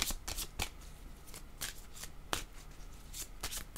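Tarot cards shuffled by hand in quick bursts, a run of crisp riffling snaps spread across the clip at close range, with no talking.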